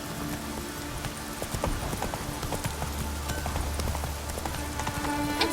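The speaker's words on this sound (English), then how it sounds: "It's raining." Steady rain patters across the scene in The Witcher 3, a dense continuous hiss with horse hooves clopping along underneath throughout.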